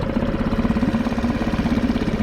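A Suzuki 2.5 outboard motor idles steadily after starting, a continuous low mechanical putter with a regular pulsing rhythm, close and fairly loud with no talking.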